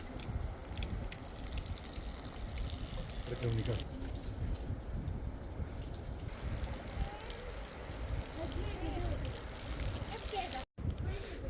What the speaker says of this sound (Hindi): अब जल भरते हैं, जल चढ़ाते हैं भोलेनाथ जी को।